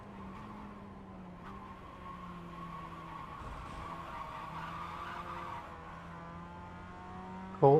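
A Mazda MX-5 race car in iRacing at Silverstone International, catching a tyre on a wet patch: steady engine drone with a skidding tyre squeal, then a short loud burst at the end.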